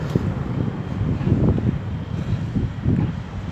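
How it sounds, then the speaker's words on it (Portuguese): Wind buffets the microphone outdoors during a calisthenics workout, a steady low rumble that swells and gusts throughout without any voices. "o vento não tá ajudando"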